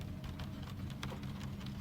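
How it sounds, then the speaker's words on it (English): Rain patters steadily against a window, a soft even wash of drops with occasional sharper taps, heard alone and fairly faint. "Now there is only the rain on the window"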